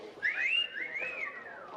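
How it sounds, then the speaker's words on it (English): A whistle sounds on a 1950s film studio set just before a take, a single bright sliding tone that rises and wavers for over a second, fairly close, with no voices over it. "Let's have a whistle."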